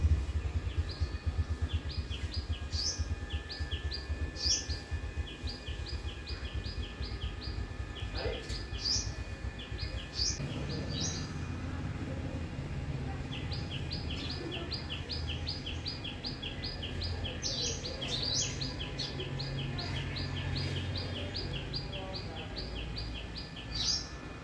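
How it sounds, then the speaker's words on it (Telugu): Morning birds chirp and call repeatedly in bright, rapid bursts, fairly distant and faint over a low outdoor rumble, with occasional louder clusters of tweets throughout. "పక్షుల హడావుడి అంతా ఇట్లా ఉంది."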